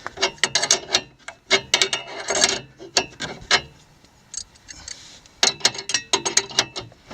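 A ratchet clicks in quick repeated bursts while bolts are tightened alternately during an Air Lift 1000 air bag install on a vehicle's suspension, with short pauses between runs of sharp, close mechanical ticking.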